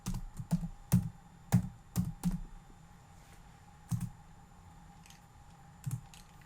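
Keys click on a computer keyboard at a desk in short clusters of taps, with pauses between bursts and a steady low hum behind them.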